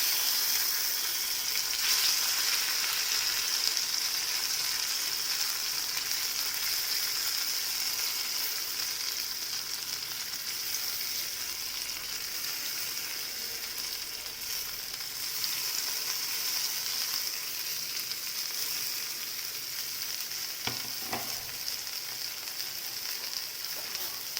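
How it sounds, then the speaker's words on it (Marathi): Stuffed okra (bhindi) pan-frying over a low gas flame, giving a steady, close hiss and sizzle throughout with faint occasional clinks, no talking. "भेंड्या परत आता भाजून घ्यायचं काम करते"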